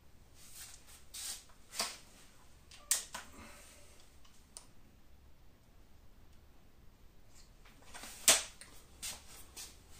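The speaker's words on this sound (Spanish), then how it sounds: "Voy a disparar un Gamo Platinum aproximadamente por aquí para ver si perfora o no perfora." Air gun shooting Gamo Platinum pellets at a metal plate, a few sharp isolated snaps spread apart with quiet between, the last one loudest.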